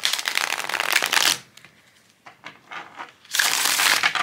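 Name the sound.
shuffling glossy tarot cards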